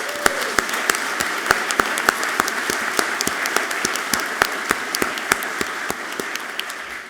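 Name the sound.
audience applause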